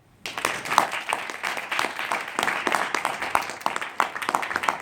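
Applause for a student speaker after an oratory presentation, a room full of people clapping densely and steadily for several seconds after a brief quiet start.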